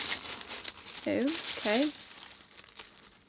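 Tin foil paper crinkles and rustles as it is handled, a close, bright crackling that runs throughout while a person speaks briefly over it.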